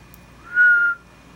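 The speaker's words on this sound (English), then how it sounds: "if I whistle there, it'll change color and brighten up." A single steady human whistle, a clear sustained tone held for about half a second, close and fairly loud against a quiet background.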